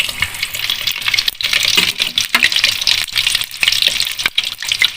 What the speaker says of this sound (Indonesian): tahunya kita ceburin ya ke minyaknya panas